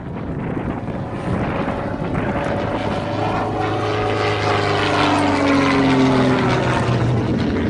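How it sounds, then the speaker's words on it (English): Propeller aircraft at an air show climbs into a high-speed barrel roll, its engine drone shifting in pitch as it passes, steady and fairly loud against wind noise on the microphone, with no talk. "Running up now into a high-speed barrel roll."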